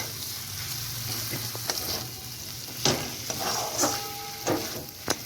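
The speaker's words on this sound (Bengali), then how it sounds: "ভালোভাবে নাড়িয়ে চাড়িয়ে দেব।" Capsicum and carrot frying in a pan for a vegetarian paneer dish, stirred with a spatula: a steady close sizzle under scattered scraping clicks and clanks, with no talking.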